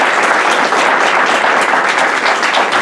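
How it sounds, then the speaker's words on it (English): A lecture audience applauds as a guest speaker is called to the stage, dense steady clapping filling the hall loudly and continuously throughout. "Let's give her a round of applause."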